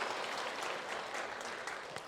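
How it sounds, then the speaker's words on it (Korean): A congregation at a Sunday worship service in a Korean church claps in thanks for an accompanist, a steady broadband patter of many hands sustained throughout without talk. "감사의 박수를 한번 하겠습니다."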